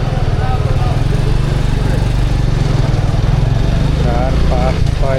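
Motorcycle engines throb loudly and steadily in dense traffic near Hazrat Shahjalal International Airport in Dhaka, a close, continuous low rumble with a voice speaking over it.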